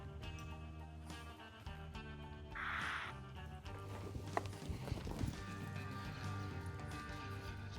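Horse walking into a pen, with steady clip-clop hoofbeats on the ground, close and moderately loud, over faint background rustle and a soft noisy burst partway through.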